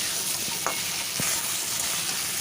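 Potato, ridge gourd and tomato pieces fry in a pan with a constant loud sizzle, with a couple of spatula scrapes and taps as they are stirred.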